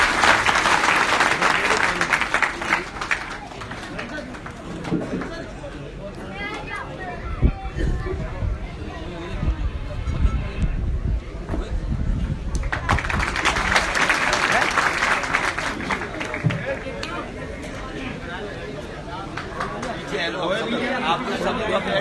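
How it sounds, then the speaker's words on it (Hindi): A crowd at a large political rally meeting in Mustafabad, Firozabad, applauds warmly to welcome a speaker. Dense clapping swells twice, with crowd chatter and voices mixed in throughout. "जोरदार तालियों से इनका स्वागत करें।"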